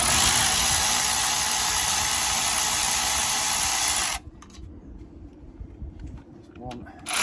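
Loud, steady whine of a power tool spinning out 14mm brake caliper bolts through a flexible UJ socket on a Volvo XC40 rear brake, running continuously for about four seconds, then cutting off to quieter handling noises and a brief final burst.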